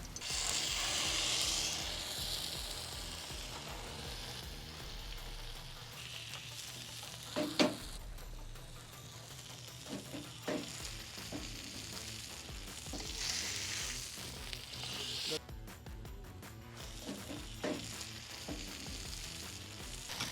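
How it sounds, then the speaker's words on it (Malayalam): Marinated avoli fish coated in Kashmiri chili powder and fish masala shallow-fries with curry leaves in coconut oil on a tawa, a soft, steady sizzle with a few clicks and knocks of utensils nearby. "നമുക്കിത് എന്നിട്ട് തവ ഷാലോ ഫ്രൈ ചെയ്യാം"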